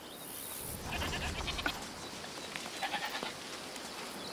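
A goat bleating in the video game A Plague Tale: Requiem, a soft nearby bleat over a low ambient background.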